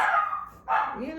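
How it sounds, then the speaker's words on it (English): A dog barks twice in quick succession indoors, loud and close, the second bark sliding into a whiny yip. "That's the dog."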